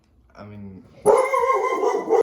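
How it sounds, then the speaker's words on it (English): A dog barks in a short series of yips, followed by a louder, brighter burst, fairly close and heard without talk over it. "sorry, that was my dog barking."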